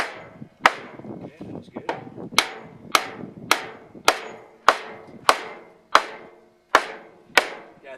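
A Milwaukee framing hammer sets nails back in with a steady run of about a dozen sharp, ringing strikes at an even pace. A short spoken remark comes partway through.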